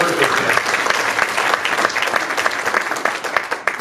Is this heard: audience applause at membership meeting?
yes